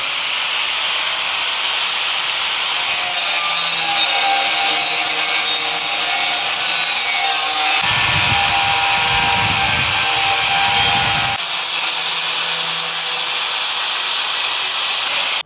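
A saw cutting wood pieces for a homemade car camper build, a steady rasping, hissing cut that runs continuously with a rougher, lower-pitched stretch in the middle, close and loud with no talking.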